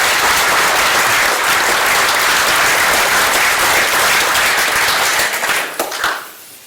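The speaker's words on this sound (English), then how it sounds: "another round of applause for all the great sponsors we have here" A conference audience applauds its sponsors at a BSD open-source event, the dense, loud clapping sustained for several seconds before thinning and tapering off at the end.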